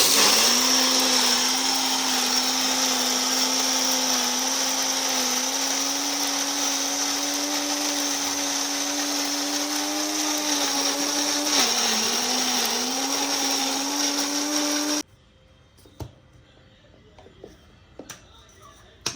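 An electric mixer grinder blending soaked mung beans whirs loudly and steadily for about fifteen seconds, its motor pitch wavering slightly, then cuts off, leaving faint clicks and rustles.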